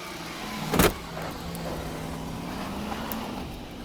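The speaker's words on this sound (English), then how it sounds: "he got back in the car. He's trying to drive away." A car pulls away from police at a late-night traffic stop, a steady low engine drone running throughout with a brief sharp thump near the start and no voices.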